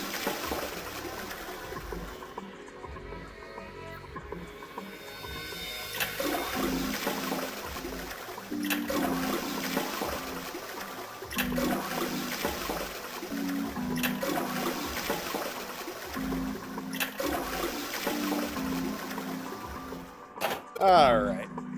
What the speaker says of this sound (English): I heard a loud flushing noise.